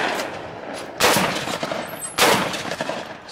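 A Benelli Montefeltro shotgun fires at sporting clays with cheap ammunition: two sharp, loud outdoor shots about a second apart, each trailing off into a short echo.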